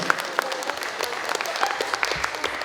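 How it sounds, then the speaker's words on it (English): Audience at a youth entrepreneurship and shark pitch event in Palau claps for a presenter from Bank of Guam, a short, moderately loud burst of scattered hand claps with some crowd murmur. "Round of applause to Catherine, please."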